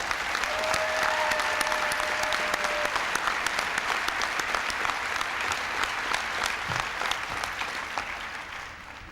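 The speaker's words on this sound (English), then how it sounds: "I hope they will all stand up now so we can give them applause." An audience gives steady, sustained applause to honorees standing at an AmeriCorps anniversary event, with clapping filling a large room at an even level that tapers slightly at the end.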